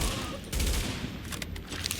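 Gunfire crackles in the video game The Division, a burst of rapid shots and booms at moderate level, with the shooting thinning into scattered pops while a voice speaks faintly.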